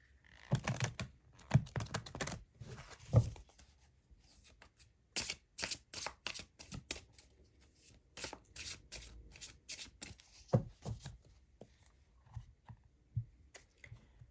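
Tarot cards are shuffled and drawn in irregular clusters of soft riffling flicks and sharp snaps, close and fairly quiet, with gaps of near silence between bursts.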